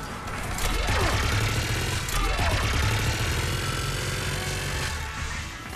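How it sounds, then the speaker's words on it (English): Sci-fi combat gunfire in Mass Effect 3, with steady loud rapid bursts and sweeping whine effects over a low rumbling battle bed throughout. "Just following the gunfire."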